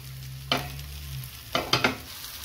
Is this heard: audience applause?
no